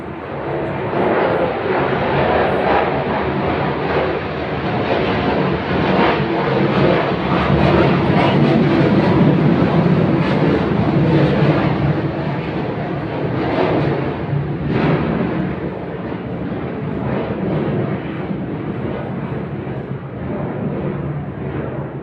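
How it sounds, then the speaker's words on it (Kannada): A loud, steady roar of an airplane passing overhead, sustained for over twenty seconds and swelling slightly in the middle before easing off. "ಕೇಳ್ತಾ ಫ್ಲೈಟ್ ಸೌಂಡ್ ಕಿವಿ ಕಿತ್ತೋಗುತ್ತೆ"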